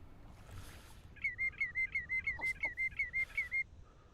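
A Baikal teal duck calling in a waterfowl hunting game: a run of about a dozen quick, rhythmic whistled chirps, clear and moderately close, over faint background ambience.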